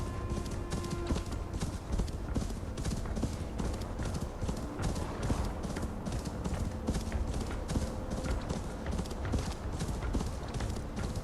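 Horse hooves clip-clop steadily and continuously in a snowy Assassin's Creed Valhalla game world, a dense rhythmic trot close by with game ambience underneath.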